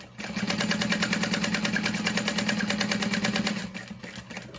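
A sewing machine stitches through thick bag fabric at a long stitch length, a fast steady mechanical chatter running loud and close for about four seconds before slowing and stopping.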